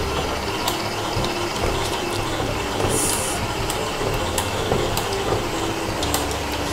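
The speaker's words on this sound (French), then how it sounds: "Après, on laisse faire le robot." A kitchen food processor kneads soufganiyot dough with a continuous mechanical whir and rattling, loud and close, with small clicks throughout and no talk.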